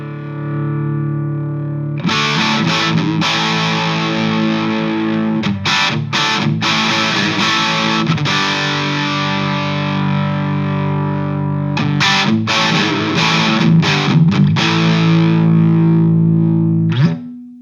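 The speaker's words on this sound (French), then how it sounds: "le bouton drive ici permet de régler le taux de distorsion de l'étage de sortie" An electric guitar plays through a Suhr Badger 30 MK II amp set for high-gain distortion, giving loud, saturated sustained chords broken by short stops and re-attacks, ringing out alone for about fifteen seconds.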